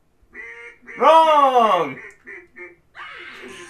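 A cartoonish duck-laugh sound effect from the quiz video game You Don't Know Jack, a loud quacking cackle lasting about a second, set between short spoken words from players.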